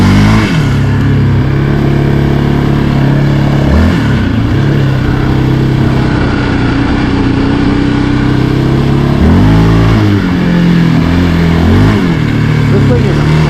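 A Yamaha Raptor 700R ATV ridden to work, its single-cylinder engine droning loud and close, with repeated throttle blips and revs rising and falling over a steady buzzing idle.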